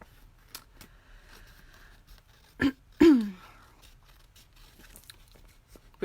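Card stock being trimmed with scissors or a paper trimmer, two sharp close cuts standing out from a quiet background, the second longer and louder.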